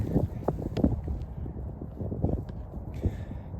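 Blustery wind buffets the microphone outdoors on a disc golf course, a steady rumbling gust with irregular thumps and swells, heard alone without talk.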